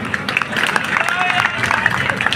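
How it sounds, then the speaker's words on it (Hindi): An audience claps for a Hindi poetry recitation, giving steady, dense applause throughout that sounds moderately loud and fairly even, with a speaking voice faintly mixed in. "आपकी तालियां कमजोर पड़ रही है।"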